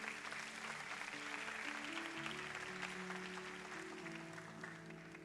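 Steady applause from a congregation at a youth church service, continuous and moderately distant, with sustained music tones underneath throughout.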